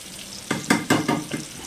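Cooked dal poured into a hot pan of fried ingredients sets off several short, loud bursts of sizzling and splashing in quick succession, close by.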